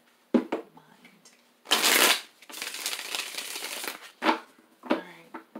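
Tarot cards being shuffled in several quick bursts, with a longer riffling stretch in the middle and short pauses between, close and fairly loud.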